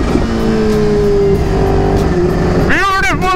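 A Kawasaki Ninja H2 motorcycle rides past with a loud, steady engine drone. Near the end its pitch sweeps sharply as it passes close by.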